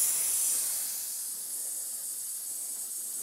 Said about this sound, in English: Let's go ahead and remove some air.